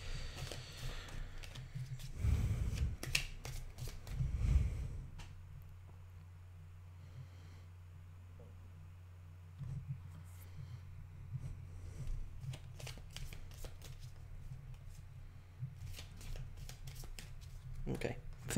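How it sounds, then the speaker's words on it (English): Cards for the Pandemic Reign of Cthulhu board game being shuffled close by: two brisk riffling bursts early on, then quieter handling and soft shuffles with a voice talking. "Okay, I think this is shuffled"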